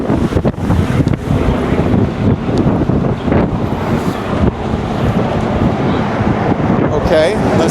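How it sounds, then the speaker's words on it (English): Strong, gusty wind buffets the microphone on a downtown street in South River, New Jersey, near a busy road, a steady loud roar with sharper gusts throughout. "it's very windy today"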